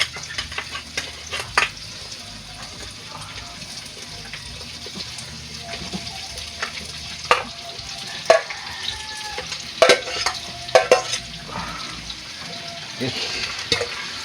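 Chicken pieces for adobo frying in a pan, a soft continuous sizzle broken by scraping and stirring clatters that grow busier toward the end, with faint talk in the background.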